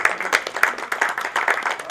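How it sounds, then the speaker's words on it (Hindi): Loud applause for women from the audience at a new branch inauguration ceremony, a brief burst of many hands clapping with sharp, uneven claps throughout. "तो एक बार मैं जोरदार तालियां महिलाओं के लिए चाहूंगा।"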